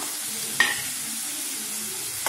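Onion, curry leaves and green chili sauté in hot oil for paniyaram, giving a soft, steady sizzle, with two sharp stirring scrapes of the spoon against the pan.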